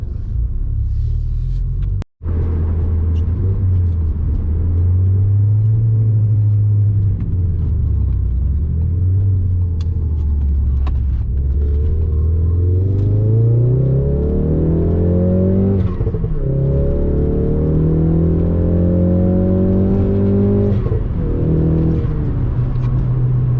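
A Jaguar S-Type R's engine rumbles steadily while driving, with loud, continuous low-pitched drone and rising revs as it accelerates through gears, alone without talk.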